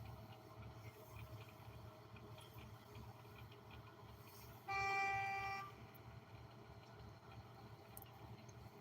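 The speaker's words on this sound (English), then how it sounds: "Somebody honked their horn outside." A single car horn honks for about a second from outside, standing out over a low, steady background hum.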